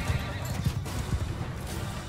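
Cavalry horses neigh and whinny while hooves clip-clop and gallop in a Mount & Blade 2: Bannerlord battle between Vikings and Aserai, loud and dense, with repeated bursts of neighing over a continuous rumble of hoofbeats and battle noise.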